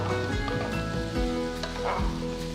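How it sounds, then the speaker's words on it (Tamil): Half a kilo of ivy gourd (kovakkai) sautéing on a high flame, a steady close sizzle with stirring clatters and scrapes of the pan throughout. "காயை போட்டுட்டு ஒரு ஃபைவ் மினிட்ஸ் நல்லா வதக்கணும்"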